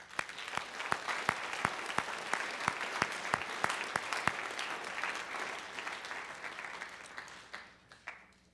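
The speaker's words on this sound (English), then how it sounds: "So let's please give them a nice round of applause." Applause from an assembly audience for a concert band and vocal group at a school Veterans Day event, a steady wash of many hands with sharp individual claps standing out early, thinning and fading toward the end.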